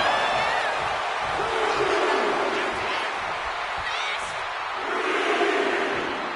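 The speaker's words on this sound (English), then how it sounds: "And Batista is revving this crowd up." Arena crowd noise from a WWE 2K25 wrestling match, a constant roar of cheering and yelling that rises and falls slightly, with a commentator talking over it.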